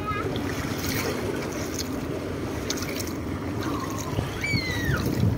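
Seawater sloshes and trickles continuously in through a hole at high tide nearby, with faint voices and scattered high chirps in the background.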